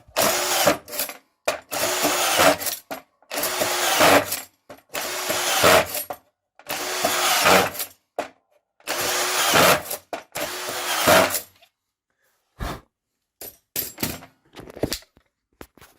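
A Kaltmann K-WZP18V cordless screwdriver with a screw feeder drives screws into wood to maximum depth in repeated short bursts of whirring and grinding, about seven runs with pauses, ending in a few brief clicking taps.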